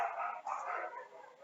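Dog barking faintly in the background during an online physics class, a muffled, continuous stretch of yips and barks with little variation in loudness.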